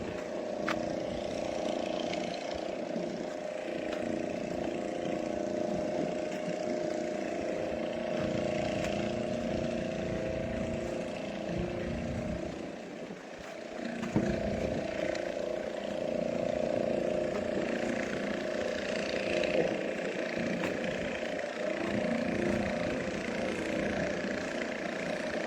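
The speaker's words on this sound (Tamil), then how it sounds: "இப்போ பாருங்க இன்னொரு போட் போயிட்டு இருக்கு பாருங்க" A motorboat engine drones steadily as the boat passes under the old railway bridge at Pamban, with a brief dip in the middle and a steady hum throughout, and no talking.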